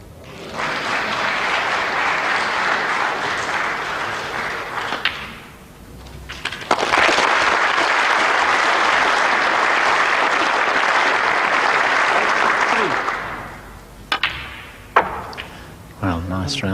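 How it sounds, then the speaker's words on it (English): A snooker crowd applauds Stephen Hendry at the 1991 UK Championship semi-final with sustained clapping in two long bursts separated by a brief lull. A commentator's voice can be heard faintly near the end. "nice round of applause there for Stephen"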